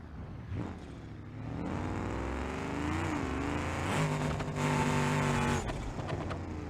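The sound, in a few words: car engine revving in BeamNG.drive video game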